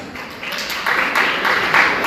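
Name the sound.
audience applause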